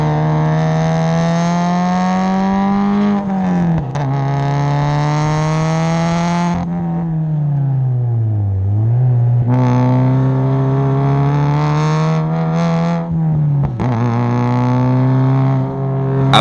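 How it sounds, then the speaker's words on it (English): Big-turbo 2015 Subaru WRX at full throttle on a race track, its engine note rising through gears with brief dips at shifts, loud and continuous throughout with no talk. "At this point, I'd like to point out how amazing the car sounds overall."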